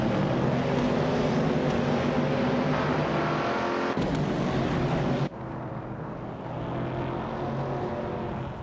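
Race cars roaring past in a racing video game, loud continuous engine drone with shifting pitch as cars jostle for position, close and alone without talk.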